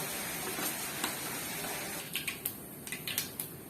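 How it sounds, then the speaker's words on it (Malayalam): Mustard seeds splutter in hot coconut oil while tempering for a tender jackfruit thoran, a steady low sizzle breaking into a quick run of sharp, close pops over the last couple of seconds. "കടുക് പൊട്ടി കഴിഞ്ഞു"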